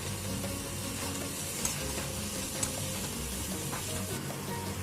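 Green chilli, coriander and mint frying together in a tempered masala for kuzhi paniyaram, a steady close sizzle and crackle with a few soft stirring scrapes, no voices.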